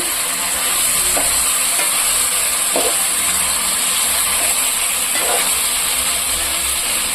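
Sliced tomatoes sautéing with softened vegetables in a pan for vegetable pulao, giving a steady close sizzle and hiss with a few soft stirring scrapes and no talking.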